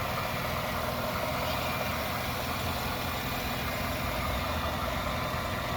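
A 2009 Chevy Silverado's 5.3-liter engine idles under the open hood, a steady, even hum with a broad constant texture and no speech, running smoothly throughout.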